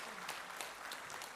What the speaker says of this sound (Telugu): అందరూ ఒకసారి గట్టిగా క్లాప్స్ కొట్టాలి.